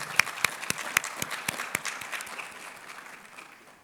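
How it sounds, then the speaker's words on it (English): At a White Coat ceremony and induction, an audience claps, starting with a few sharp, distinct claps that blend into steady applause and then fade out. "So we want to take a moment to give them a round of applause."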